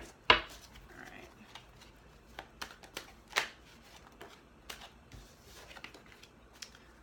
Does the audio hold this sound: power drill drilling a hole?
no